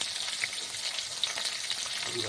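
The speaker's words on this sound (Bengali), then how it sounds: "আর কুচি করে রাখা পেঁয়াজগুলো দিয়ে দিচ্ছি" Chopped onions hit hot oil with whole garam masala and cumin, giving a loud, steady, close frying hiss with faint crackles throughout.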